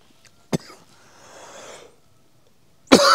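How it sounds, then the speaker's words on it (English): A single sharp cough bursts out near the start, followed by quiet breathy rustle and a second loud cough-like burst at the end, close to the microphone in a quiet indoor room. "I'll have to edit out that cough."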